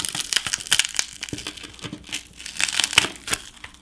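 The cracked glass back panel of a Redmi Note 7 Pro comes away from adhesive on its plastic frame with a run of sharp crackling, crunching and snapping bursts, irregular and close, with no voices.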